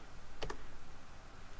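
Two quick, faint keystrokes on a computer keyboard as a value is typed in, a close double click over a soft steady background hiss.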